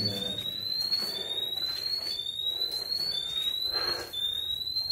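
Gas detector alarm inside a bat-inhabited mine cave, repeated rising electronic beeps at a steady pulse, with people talking faintly in the background.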